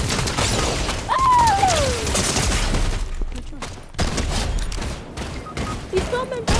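Gunfire in the Fortnite battle royale video game, a dense burst of rapid shots and crackling impacts filling the first half, with scattered shots later amid game noise and a rising whistle-like tone.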